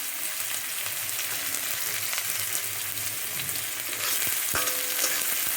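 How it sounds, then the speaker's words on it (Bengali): Onion and garlic fry in a pan for khichuri, giving a continuous close sizzle with a brief clink of a stirring utensil near the end. No one speaks. "পেঁয়াজ রসুনটা একটু ভেজে নিতে হবে।"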